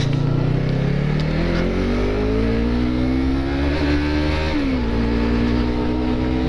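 A Yamaha MT-03 motorcycle revs steadily upward, its loud engine tone climbing over several seconds before dipping briefly and rising again, recorded close.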